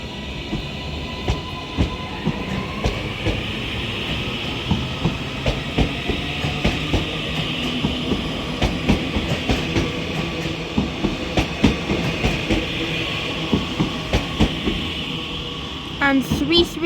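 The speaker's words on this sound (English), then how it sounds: "as that 331 heads off now departing is going to be this double-headed Northern 331 for Liverpool Lime Street" A double-headed Northern Class 331 electric train pulls out of Manchester Oxford Road toward Liverpool Lime Street, wheels clicking steadily over rail joints under a broad motor hum, moderately near and sustained throughout.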